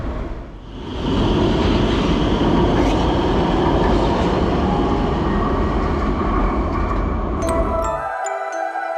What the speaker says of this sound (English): We're taking the Rotterdam electronic tram